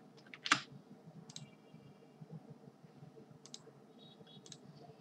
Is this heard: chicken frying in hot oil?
no